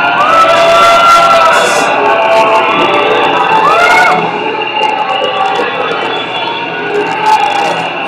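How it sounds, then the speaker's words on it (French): A crowd of villagers cheers and acclaims, loud and sustained with shouting voices. The roar eases a little halfway through but carries on. "Les villageois, monseigneur, ils vous acclament."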